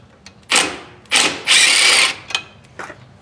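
Bursts of a power tool driving and tightening golf cart lift bolts come in short pulses, with one longer run in the middle and a few brief clicks between them.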